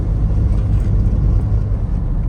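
Toyota Starlet EP91 automatic on a winding Cornish country road: a steady, loud low engine and road drone fills the whole stretch, with no talking over it.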